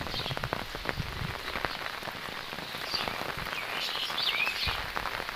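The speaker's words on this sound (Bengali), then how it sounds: "বৃষ্টি খুব নামছে" Heavy rain from Cyclone Remal pours steadily over a village, a dense, even hiss of drops on surfaces that runs throughout with no pauses.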